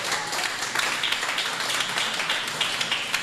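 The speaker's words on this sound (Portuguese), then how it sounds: "Palmas para Jesus." Church congregation clapping during a sermon, a dense steady patter of many hands with no talk on top, filling the whole moment at even loudness.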